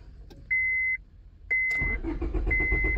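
A Honda Civic gives two electronic warning chimes, then its starter cranks with a rapid, rhythmic churning, close and steady, while the engine fails to catch and a final chime sounds over the cranking.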